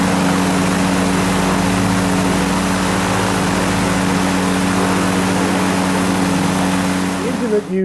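A Rotax 582UL two-stroke aircraft engine running on a shop run stand, a loud, steady droning hum with a constant low throb that holds evenly until it cuts off at the very end.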